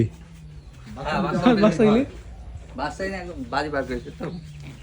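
Domestic pigeons coo in soft repeated bursts close by on a rainy day, while people talk over them.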